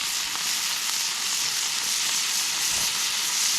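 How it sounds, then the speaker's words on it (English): A pan of fajitas flaring up over a campfire gives off a steady, loud hissing roar of flame and sizzle that holds unbroken throughout, with no talk over it. "Set your pan on fire."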